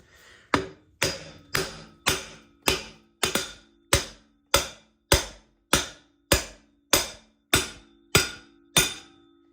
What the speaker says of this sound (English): there'll actually be a kickback on the hammer when you're hitting on this